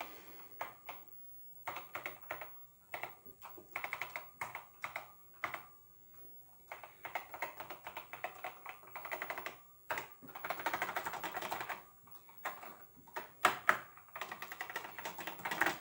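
Keys clatter on a Bell and Howell Apple II+ clone keyboard in steady runs of rapid, close taps, broken by short pauses, with occasional louder bursts and no voices.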